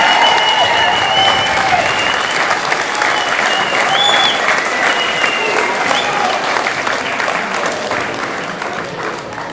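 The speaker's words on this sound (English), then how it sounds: "Let's give a round of applause for our alumni." Sustained crowd applause at a high school wrestling meet on alumni night, loud and steady in a gym for nearly ten seconds, easing slightly toward the end, with no voices over it.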